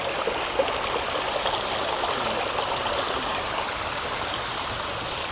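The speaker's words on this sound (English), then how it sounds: "Stunning little creek." Water flowing steadily down a small creek in Central Park, New York City, a continuous close, even rushing and trickling babble with no voices.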